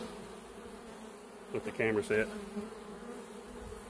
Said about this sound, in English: But here's a few of these mean bees.